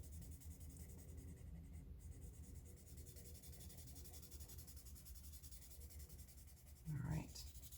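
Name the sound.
pencil shading and blending on paper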